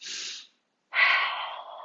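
Person breathing during a yoga flow: a soft breath, a short pause, then a longer, louder deep breath drawn close to the microphone.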